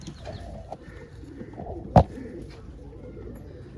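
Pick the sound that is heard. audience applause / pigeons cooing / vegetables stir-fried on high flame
pigeons cooing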